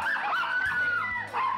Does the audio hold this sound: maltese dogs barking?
yes